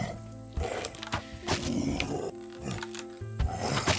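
A bear in the survival game Raft roars and growls in loud harsh bursts during a fight, with clattering game sounds in between.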